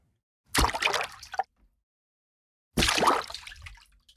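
Two separate bursts of splashing video game footsteps through shallow water, each sloshing for about a second, with silence between them.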